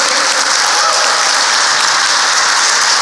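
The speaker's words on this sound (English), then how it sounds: "Round of applause for Spencer." Crowd at a construction technology showcase in Austin, Texas applauds a company co-founder, loud, continuous clapping heard up close, dense and even from start to finish.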